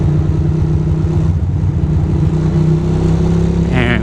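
Steady engine drone from a 2006 Ducati Monster 620 motorcycle on a calm, slow cruise along a local road, a continuous low rumble with mild wind noise and a brief higher whine near the end.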